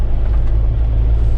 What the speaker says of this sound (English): we're pulling out of the Quartz Mountain campground this morning